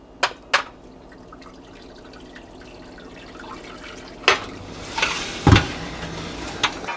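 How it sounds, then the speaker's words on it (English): Hot water is poured into a baking pan set at an oven, with a few sharp knocks and clinks early, then a soft splashing pour and thuds toward the end, fairly quiet. "and then I'm going to pour the water in."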